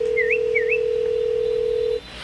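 A steady electronic tone plays during a phone call, with two short rising warble-like beeps early on, then cuts off abruptly near the end.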